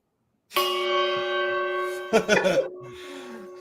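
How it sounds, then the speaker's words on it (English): A trading-floor gong rings out once, its sustained metallic tone lasting about a second and a half before voices break in over the fading hum. "Jeff, consider yourself gonged"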